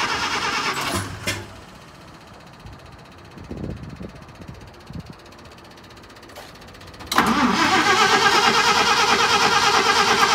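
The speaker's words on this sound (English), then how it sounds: "Battery sounds dead." A 1953 International rat rod's engine cranks sluggishly on a weak battery in short, stuttering bursts, then suddenly catches and runs loudly at a steady idle.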